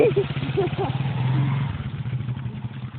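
A motorcycle engine idles and rumbles nearby while people talk over it.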